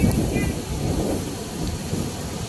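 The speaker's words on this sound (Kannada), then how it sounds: "ಮಳೆ ಬರಾಕೈತಿ ನೋಡ್ಬೇಕು ಗೈಸ್ ಮಳೆ ಬರೋದು" Steady rain hisses and patters close by, with a low rumble underneath and faint talk in the background.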